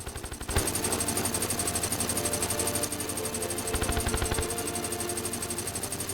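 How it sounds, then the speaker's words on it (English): A chainsaw-like hard light weapon in the video game Terraria Calamity fires as a continuous, rapid buzzing rattle, loud and unbroken throughout, with a harsher pulsing stretch partway through. "This weapon and its projectiles function as a chainsaw."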